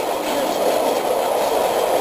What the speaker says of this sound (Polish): To jest drezyna, nie lokomotywa.